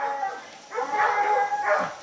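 Hunting dogs in Louisiana yip and whimper in high, tonal bursts. The sounds come in two clusters that run almost without a break, fairly close and clear, with no talking.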